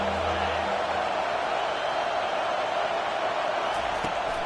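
Home football crowd roaring nonstop in a packed stadium, a dense loud wash of cheering filling the whole stretch, with a brief sharp accent near the end.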